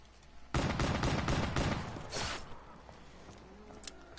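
Pistol gunfire in Black Ops 3 Zombies on the Shadows of Evil map, a quick run of loud, close shots fired in succession, followed by a quieter mechanical tail.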